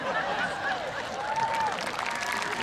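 Audience at a high school graduation ceremony claps steadily in a large hall, dense and continuous throughout, with faint voices and a few whistle-like tones mixed in.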